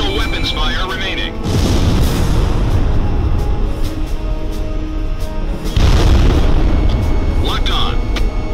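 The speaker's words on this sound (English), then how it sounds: "Release FAE bomb." Fuel-air explosive bombs detonate in the combat flight game Ace Combat Zero, two deep, loud booms rolling out over continuous jet engine noise and game audio.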